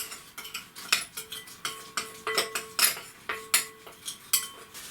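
Salt and black pepper powder mixed in a bowl with a utensil, a run of sharp clinking taps and scrapes against the bowl in an uneven rhythm, close and distinct with no talking.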